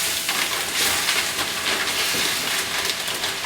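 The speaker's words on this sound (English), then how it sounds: "Hear the sizzle? That's what you're looking for." Chicken pieces sizzle in melted butter in a pan for jambalaya, a loud continuous crackling hiss that flares and settles.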